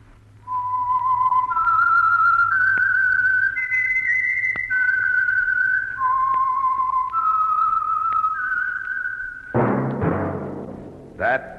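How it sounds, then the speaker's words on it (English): A radio show theme tune whistled clearly and close, sustained notes stepping up and down, ending with a brief rustle and a final whistled note. "That whistle is your signal for the Signal Oil Program"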